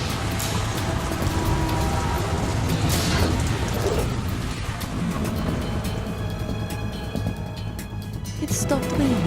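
Rain in the Metal Gear Solid 2: Substance video game, a steady hiss of rainfall on surfaces with scattered drops and a low rumble, continuous and even under spoken dialogue.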